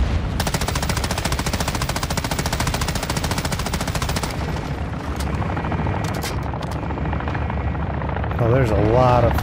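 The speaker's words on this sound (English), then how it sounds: "There's a lot of helicopters coming in." Helicopters from the Modern Warfare 3 video game roar loud and continuous with a dense rotor chop, layered over rapid machine-gun fire throughout, with a brief voice near the end.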